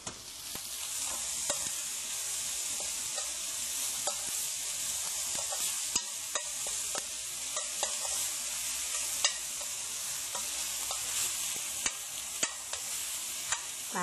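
Pork shoulder stir-fried with a little oyster sauce, a continuous bright sizzle with sharp spatula scrapes and taps against the pan recurring irregularly throughout.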